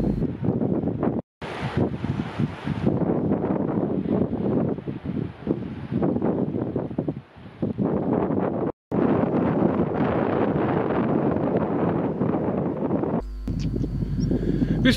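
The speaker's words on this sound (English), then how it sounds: "On the cliff tops, the wind is a constant companion." Strong wind buffeting a microphone on Cornish cliff tops by the sea, loud rumbling gusts that roar continuously with a few brief cut-outs, no voices.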